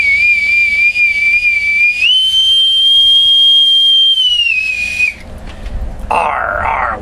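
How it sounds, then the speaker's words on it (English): A bosun's whistle pipes a single long, shrill, steady note that steps up in pitch partway and then slides down to stop, loud and close, followed by a brief burst of other noise. "with my authentic bosun's whistle"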